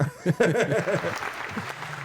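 Steady applause from an audience runs through the whole stretch, partly under a voice talking over it near the start.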